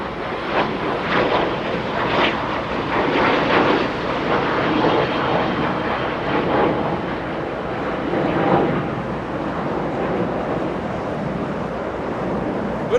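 A Delta jet arriving from San Jose del Cabo, Mexico, at Los Angeles rumbles steadily through the whole stretch, a broad sustained engine roar mixed with wind noise and no talking.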